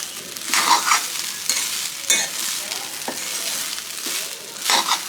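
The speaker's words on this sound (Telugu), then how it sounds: "ఇప్పుడు పుదీనా పేస్ట్ అన్నం మొత్తానికి కలిపేలాగా మంచిగా కలుపుకోవాలి" Cooked rice being mixed with mint paste in a hot pan, a continuous soft sizzle with rhythmic scraping and stirring strokes of a spoon, close and clear with no talking.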